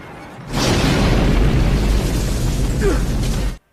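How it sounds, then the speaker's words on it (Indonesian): A car in a film flips over and explodes: a sudden loud explosion erupts into a sustained roaring blast that rumbles for about three seconds before cutting off abruptly. "mobil tersebut terjungkal kemudian meledak"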